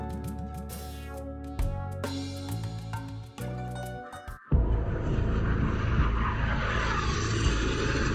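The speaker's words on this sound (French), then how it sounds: "Des avions de chasse dans les airs" Fighter jets in the air over a war zone in Russia produce a loud roaring, rushing engine noise that swells abruptly midway and then holds as a broad sustained roar, preceded by shifting mechanical tones.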